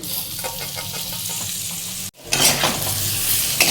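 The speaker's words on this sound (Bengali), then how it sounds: "ভেজে রাখা কাঁঠালটা আমি মশলার সাথে মিশিয়ে নিচ্ছি।" Fried jackfruit being stir-fried with spice paste in a pan, a dense close sizzle with steady scraping stirs, briefly cut off midway before resuming louder.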